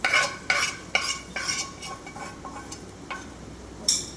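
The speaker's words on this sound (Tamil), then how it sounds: "தாளிச்சதை அப்படியே இதில் கொட்டிடணும்." Tempering is poured into a pot of banana flower koottu and stirred, giving a series of rhythmic scraping strokes with a faint sizzle, close and fairly soft.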